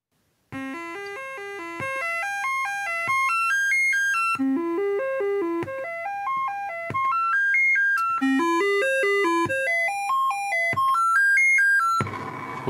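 A Commodore 64's SID sound chip, slightly off, plays repeated rising and falling runs of clean electronic beeping tones during a diagnostic test, in several looping phrases through a hooked-up speaker.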